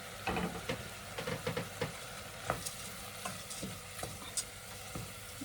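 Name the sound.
stirring rice porridge in a pot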